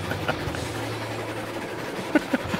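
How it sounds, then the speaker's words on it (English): In the Railroads Online video game, a locomotive bearing down makes a low rumbling train sound with rhythmic wheel clacks, and a couple of sharp metallic clicks near the end. "I see a giant locomotive bearing down on me."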